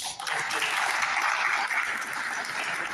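An audience at a lecture claps steadily, a dense, even wash of applause throughout with no voices standing out.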